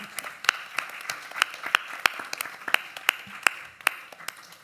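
An audience at a poetry translation slam and recital in Barcelona claps steadily. The applause is moderately loud and even, with individual sharp claps standing out and no voices.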